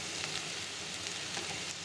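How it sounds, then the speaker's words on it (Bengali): Snake gourd fries with poppy seeds in a pan, giving a dense, continuous sizzle close by, with faint stirring rustles and no voices. "পোস্তটা দিয়ে এবার কিছুক্ষণ আমরা বেশ এটাকে নাড়াচাড়া করে দেবো"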